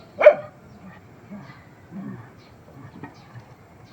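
A dog gives one sharp bark, followed by a few quieter yips and whimpers spread across a few seconds, fairly close.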